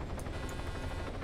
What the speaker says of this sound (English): the helicopter just flung me backwards